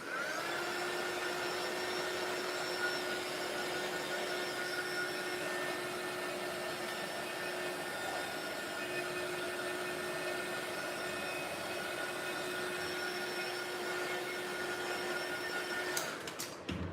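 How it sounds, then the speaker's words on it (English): A handheld heat tool blows hot air over a drying craft project with a steady, whining rush of air that holds evenly for about sixteen seconds before cutting off, with no talking. "I'll just quickly use my heat tool."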